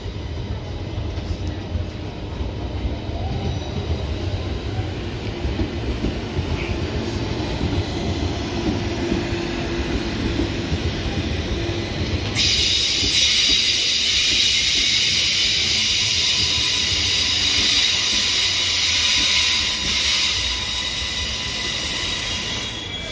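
A passenger train bound for Nambour runs past with a continuous rumble and wheel noise, joined midway by a loud sustained high hiss that lasts to the end, no talk over it.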